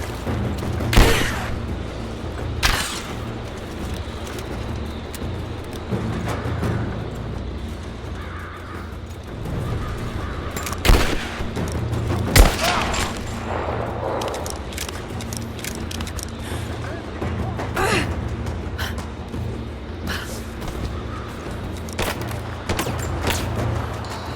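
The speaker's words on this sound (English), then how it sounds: "I'm under fire!" Sharp gunshots crack repeatedly through Rise of the Tomb Raider, scattered bursts ringing out over a steady background din with distant bird caws, and no talk over them.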